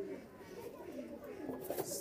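Pakistani high-flying pigeons coo in soft, low rolling bursts, muffled and fairly faint beneath a steady background murmur.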